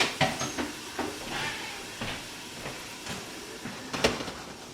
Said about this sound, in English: So we're looking at steaming, because that top section of the dumpling wrapper is getting nicely steamed while the lid's on.